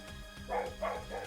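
A dog lets out three quick, muffled barks in a row from another room, faint and somewhat distant against a quiet indoor background.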